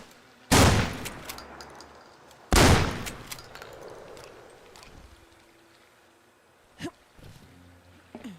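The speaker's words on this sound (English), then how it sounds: "The laser guns are supposed to fire." Laser guns fire in a video game as two loud, sharp blasts about two seconds apart, each trailing off into a quieter rumbling background, with a short faint click near the end.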